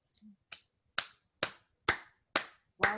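A handful of sharp, isolated claps ring out one by one at a steady pace, loud and close, as a small meeting audience begins applauding, with a brief faint sound before the first clap.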